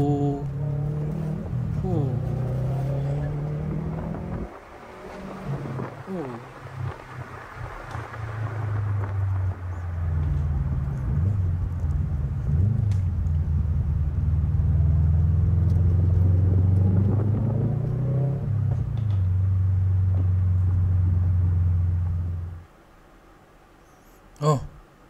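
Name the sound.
Subaru WRX STI with Tomei exhaust engine sound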